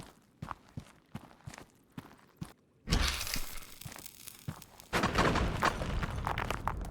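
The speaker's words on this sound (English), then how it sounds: "Nice explosion." Explosion in the mining game MineMogul: light footsteps-like clicks, then a sudden loud blast with a rumbling roar, followed by a second heavy burst of crackling debris, close and alone.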